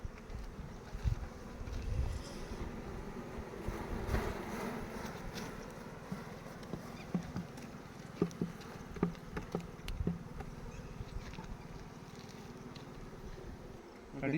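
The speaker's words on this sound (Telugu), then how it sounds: "ఇవి వచ్చేసేమో డ్రోన్ ఈగలు, అంటే మగ ఈగలు" Drone honeybees, the males of the colony, buzz in a steady low hum close by, with scattered louder passes and faint background noise.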